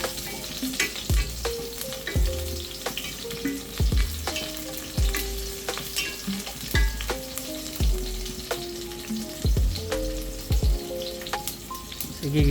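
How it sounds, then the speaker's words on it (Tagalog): Garlic, ginger and chili sauté in a hot pan for binagoongang manok, a constant bright sizzle broken by regular clanking stirs of a utensil, with no one talking. "gigisa ko na rin yung garlic, yung ginger and yung chili"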